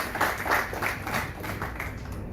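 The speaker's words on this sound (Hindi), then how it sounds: "मैं चाहूँगा ज़ोरदार तालियों से हम आज के इस कार्यक्रम का आगाज़ करें।" Audience applause opening a Hindi music programme on ragas, a dense wash of many hands clapping steadily at moderate loudness for the whole span, with no speech over it.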